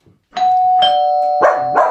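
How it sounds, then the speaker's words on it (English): An artificial doorbell chimes in a home, followed by a dog reacting with sharp barks over the tone; close, loud and brief, with no talk. "Let's just try and ring an artificial doorbell."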